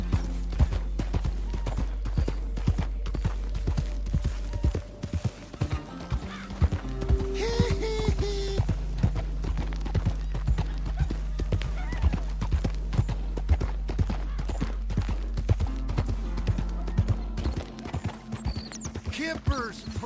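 A horse clip-clops at a steady, rhythmic walk in the game Red Dead Redemption 2, hooves sounding close and even for about twenty seconds over a low droning hum, with a brief whinny partway through.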